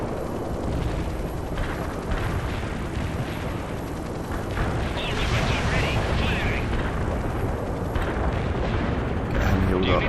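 Continuous battlefield rumble of artillery fire and explosions in World in Conflict, a dense roaring wash with muffled booms layered throughout, while someone talks over it.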